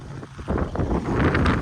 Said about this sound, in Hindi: बहुत हवा चल रही है